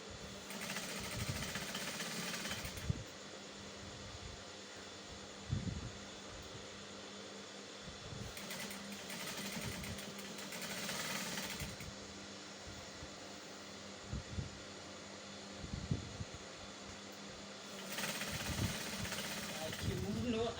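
A sewing machine stitching the neckline of an oversized kimono jacket, a continuous mechanical whir that starts and stops in several long runs, with some handling knocks and talking over it.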